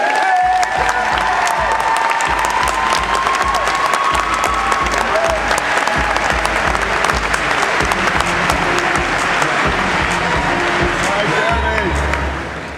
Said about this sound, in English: How about a round of applause for Mr. Jeremy Gross?